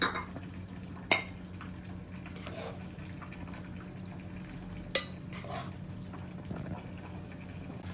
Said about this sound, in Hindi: चरसी चिकन कढ़ाई बनकर तैयार हो गई है। अब हम इसको डिश आउट करते हैं।